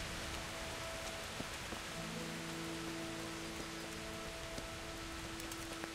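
Steady, even rain hisses on a surface in the video game Kingdom Come: Deliverance, with faint tonal hums running underneath and no voices.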